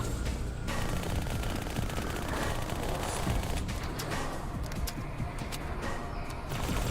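Rapid streams of plasma pistol fire from Halo 2's campaign, a dense continuous crackle of energy shots running throughout with no clear gaps, loud and close.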